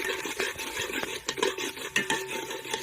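A utensil scrapes and stirs through capsicum and egg in a pan, with soft clinks and scrapes repeating unevenly over a faint sizzle.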